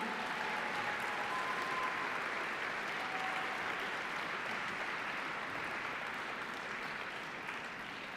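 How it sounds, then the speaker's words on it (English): A large awards-ceremony audience at a national science competition applauds steadily, a dense, even wash of clapping that holds for several seconds at moderate distance with no talk over it. "You're getting a little more applause than we've had thus far"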